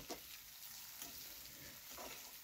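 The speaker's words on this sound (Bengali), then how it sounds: "তারপরে তেলের মধ্যে একটু নুন দিয়ে আমি ডালটা ভাজতে দেব। ভালো করে মুচমুচে করে ডালটাকে ভাজবো।" Lentils frying with a little salt in oil in a kadai, crisping: a steady, soft broadband sizzle with faint stirring scrapes now and then, close and quiet, with no talk.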